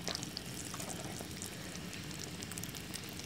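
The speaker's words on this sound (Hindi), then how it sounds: "तो फ्रेंड ये चकोर जो है वो हमने घी में डाला। तो जब तक इसका कलर चेंज नहीं हो जाता नीचे से हम इसको पकाएंगे।" Chicken chakori dough sizzles in hot ghee in a pan, a soft, even crackle that stays close and steady with no talk.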